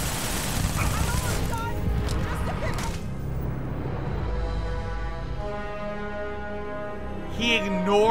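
Video game gunfire, rapid bursts of shots with booming impacts and whooshes in the first few seconds, then a sustained tonal drone, loud and busy.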